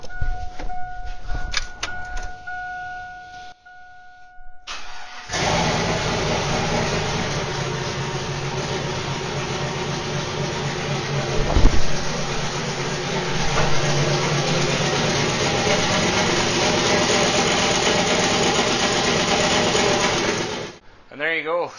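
A GM LS cathedral-port V8 truck engine cranks and catches after a few seconds, then idles loud and steady for about fifteen seconds with one brief knock partway through before shutting off.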